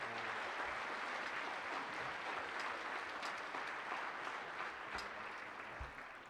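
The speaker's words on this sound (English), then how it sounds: "Can you give a big round of applause to those students?" Audience at a middle school sixth grade band concert applauds student helpers, a broad sustained wash of clapping heard from within the crowd, fairly quiet overall and tapering slightly toward the end.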